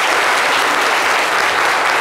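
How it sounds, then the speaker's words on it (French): A studio audience applauds a guest with a continuous, loud, dense wash of clapping hands and no voices over it. "Je vais vous demander encore de l'applaudir s'il vous plaît."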